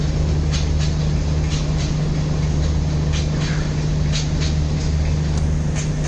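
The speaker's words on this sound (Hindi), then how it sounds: "तो आगे से दादर ट्रेन एक्सप्रेस आ रही है, जैसे कि आपको कहा था क्रॉसिंग के लिए।" A Dadar express train runs past at a railway crossing, a steady loud rumble with a low drone that holds throughout, with faint rhythmic clatter above it and no talking.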